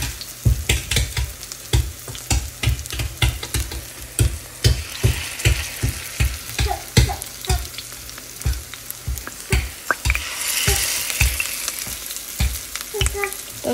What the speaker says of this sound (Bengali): তো সব বড়াগুলো আমি এইভাবেই ভাজা করে নেব।